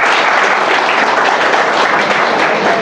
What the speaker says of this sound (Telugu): మీకు నచ్చితే కనుక ఓ 2 చప్పట్లు కొట్టి